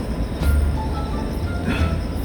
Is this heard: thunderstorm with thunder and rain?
no